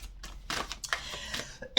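A series of broadband bursts like coughing and throat clearing, several close spaced hacks ending in a sharper, louder burst, heard up close and alone.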